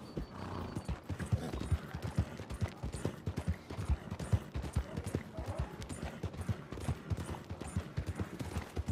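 Hooves of a galloping horse in Red Dead Redemption 2 drum in a fast, continuous clip-clop rhythm, close and steady, with whinnying over the run and a brief voice.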